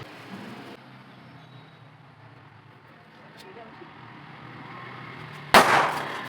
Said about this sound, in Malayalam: നമ്മൾ ഇപ്പോൾ ഓലപ്പടക്കം പൊട്ടിക്കാൻ പോകുന്നത്.